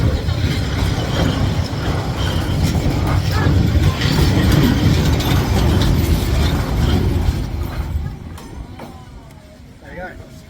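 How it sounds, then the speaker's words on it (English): Train rolling slowly through Hanoi's Train Street, a narrow residential lane, giving a steady loud rumble with mechanical clanking that fades after several seconds, with a voice speaking over it. "There you go. Train."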